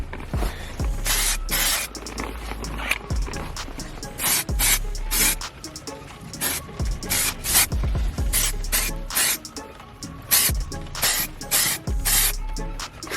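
Repeated short hissing bursts of a spray bottle applying shine spray to a car's interior plastics, a dozen or so quick squirts in an irregular rhythm, with faint rubbing and handling noises between them.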